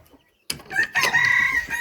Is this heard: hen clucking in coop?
yes